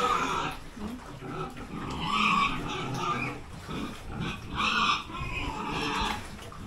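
Several farm pigs grunt and snort close by, rough low grunts coming in uneven bursts, with occasional squeals mixed in and no one talking.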